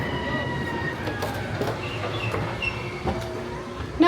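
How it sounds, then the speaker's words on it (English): An amusement park train at Knott's Berry Farm rumbles along with a steady mechanical drone, squealing tones and clanks. A busy crowd murmurs in the background. "Onto the train we go."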